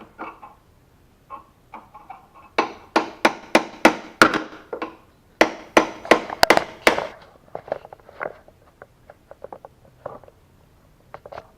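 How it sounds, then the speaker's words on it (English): A hammer strikes a chisel wedged under the lower door hinge pin of an 82-92 Firebird or Camaro, sharp metallic blows in rapid bursts, loud and close, with lighter taps between the volleys. "put the chisel under the pin because it's kind of tight in there, and then just hit the chisel"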